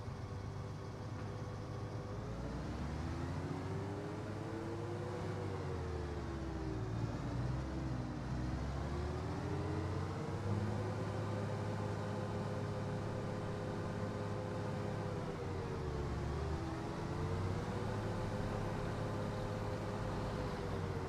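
A farm vehicle engine in Farming Simulator 25 holds high revs for a long stretch, a loud continuous drone whose pitch dips and rises with gear changes and load. No one speaks.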